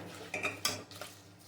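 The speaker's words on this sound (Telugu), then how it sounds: "పోపు ఉల్లిపాయలు పల్లె గలగలా అని సౌండ్ వస్తుంది చూసారా" Crisp fried onions and mustard-seed tempering for lemon pickle rattle dryly as they are stirred in a pan, giving a few short, quiet clinks and scrapes with no voices.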